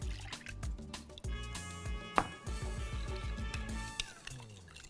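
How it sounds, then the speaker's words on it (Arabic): Cold water is poured from a cup onto jelly powder in a bowl while making jelly ice cream, a steady close trickle and gurgle running throughout with a brief splash partway. "احط عليه بقى ايه ثلاث ارباع ميه باردين"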